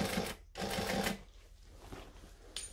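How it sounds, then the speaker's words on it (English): A sewing machine stitches fabric in rapid bursts, two loud runs of needle chatter with a brief pause between, then quieter handling as the piece is moved around. "So I'm just moving it around as I'm stitching."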